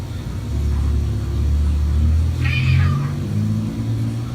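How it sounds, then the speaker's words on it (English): A cat yowls at night in one drawn-out, wavering meow that rises over a loud, steady low rumble and then fades. "I would definitely be concerned if my cat sounded like this at the same time every night"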